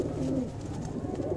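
A Jeera pigeon, a Madrasi Punjabi breed, gives a short, low, throaty coo close by.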